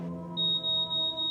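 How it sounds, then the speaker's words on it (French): A smoke detector in a house sounds a rapid series of four shrill, piercing beeps in a regular rhythm over a faint background hum. "C'est le détecteur de fumée."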